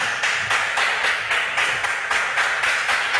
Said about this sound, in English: I think you deserve a big resounding round of applause.